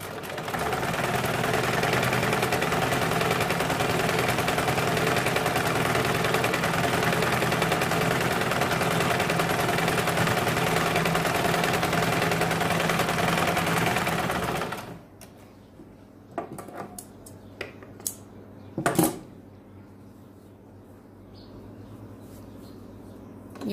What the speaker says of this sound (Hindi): अभी यहाँ पे अभी डबल सिलाई लगानी है।